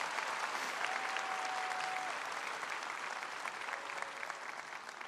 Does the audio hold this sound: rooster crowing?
no